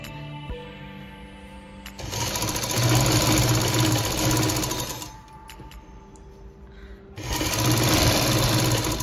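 A sewing machine stitches cotton cloth for a baby nappy in two loud, rapid, close bursts of whirring, separated by a quieter pause with light clicks and handling.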